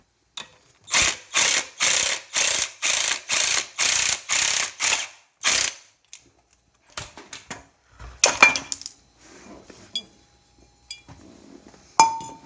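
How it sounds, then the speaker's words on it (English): A ratchet clicks in a fast, steady series of about a dozen even strokes while bolts are torqued down during a rear disc brake conversion on a 1990 Honda Civic EF hatchback, followed by scattered metallic clinks and tool handling. "the best way I found to do it is to torque them down pretty good"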